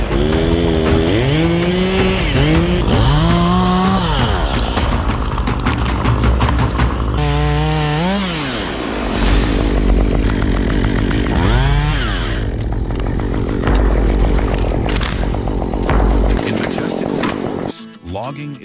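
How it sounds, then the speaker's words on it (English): Chainsaws fell trees in large-scale forest logging, loud and close, with the engines revving up and down in wavering whines over a deep, constant drone before cutting off near the end. "the sound of chainsaws echoed, signaling the arrival of a lumberjack"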